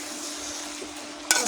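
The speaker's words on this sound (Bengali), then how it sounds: "তরকারি নামানোর কিছুক্ষণ আগে টমেটো দিয়ে ভালো করে নেড়ে নেড়ে কষিয়ে নেবেন" A cabbage curry with tomato sizzles and fries in a pan while it is stirred, a steady close hiss ending in a sharp clink of the spoon against the pot, with no talking.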